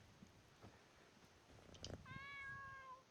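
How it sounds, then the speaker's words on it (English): A cat meows once in the video game Skyrim VR, a drawn-out, clear, tonal call that rises and then trails off, heard alone over quiet ambience. "There's my kitty."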